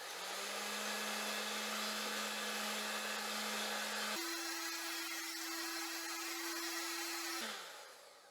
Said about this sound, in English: now I'm going to use an electric whisk to whisk it up